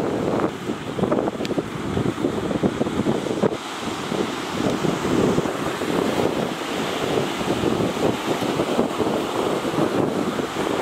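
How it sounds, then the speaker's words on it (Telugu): Sea surf washing onto a beach, a steady broadband roar with rolling swells and gusty wind buffeting the microphone, loud and continuous with no voices. "ఇక్కడ సముద్రం ఒడ్డుకు వచ్చాను నేను."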